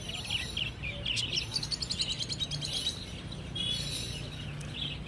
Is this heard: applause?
no